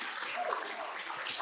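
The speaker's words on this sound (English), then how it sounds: "give them a round of applause" An audience at a business talk gives a short round of applause, a dense even patter of many hands clapping, with faint voices underneath.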